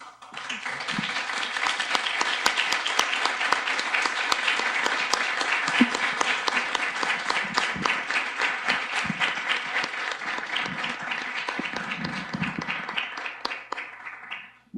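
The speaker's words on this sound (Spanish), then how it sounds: "¿Qué les parece si les brindamos un aplauso?" Audience at a university workshop session at FA UNAM gives sustained applause, with dense rapid clapping that builds quickly, holds steady for many seconds, then tapers off near the end.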